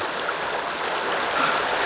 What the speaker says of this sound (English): It's a gentle burn.